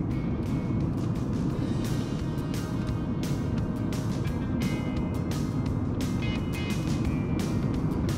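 A 1991 Oldsmobile Ninety-Eight Touring Sedan engine running smoothly while driving, heard from inside the car as a continuous, even drone with road and wind hiss and no talking.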